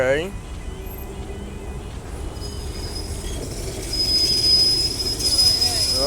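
A tram running on Gdańsk tracks, wheels squealing loudly on the rails with a sustained metallic screech, rising toward the end, while a person talks over it.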